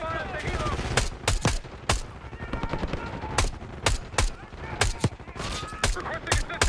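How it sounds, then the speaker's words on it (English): Heavy automatic gunfire in the Call of Duty Black Ops 6 video game, loud repeated bursts and sharp single cracks firing in irregular volleys throughout, with no clear talk over them. "We're taking heavy fire at the helo."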